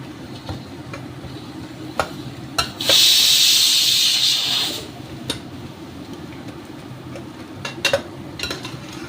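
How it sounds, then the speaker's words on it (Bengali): Ingredients for mutton pulao fry in a pan, with intermittent spoon scrapes and knocks, then a loud burst of steamy hiss lasting about two seconds before settling back to quiet sizzling. "ভালো করে ধৈর্য ধরে ভাজবো।"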